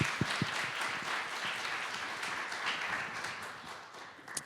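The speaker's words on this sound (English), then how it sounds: "If we could just get a round of applause," An evening tech-talk audience gives a round of applause for the event's sponsors, a quiet spread of clapping with a few sharper individual claps near the start, fading slightly toward the end.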